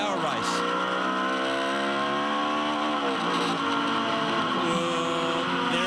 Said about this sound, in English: That to me sounds like a bit of a gearbox issue